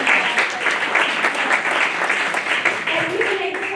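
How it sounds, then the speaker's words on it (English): Audience applause at a 34th District Democrats gathering, a steady wash of clapping from a crowd that runs the whole time, with some voices mixed into it. "you should clap for that, right?"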